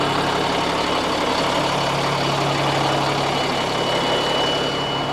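LMTV military truck engine idling while air pressure builds, a steady low diesel drone with constant mechanical hum, close and unbroken for five seconds.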